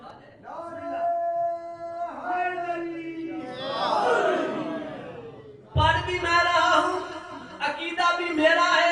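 A crowd chants slogans in unison at a religious majlis gathering, a few rhythmic bursts of massed voices that swell, pause, then return strongly and keep going.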